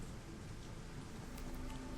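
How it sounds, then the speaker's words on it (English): Steady rain pouring in the Shadowrun: Hong Kong game, a continuous soft hiss of falling drops throughout, fairly quiet, with no voices. "It's pissing rain out and I'm freezing."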